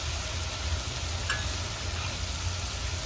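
Onion and chillies for Manchurian sizzle in a hot pan with a steady, close, broadband frying hiss and faint occasional ticks, without talking.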